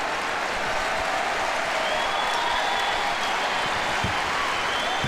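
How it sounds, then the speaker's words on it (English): A steady roar of applause and crowd noise from spectators at a college basketball game between Creighton and Xavier fills the arena continuously and fairly loudly, without a break. "Crowd applauding how they broke the press so comfortably"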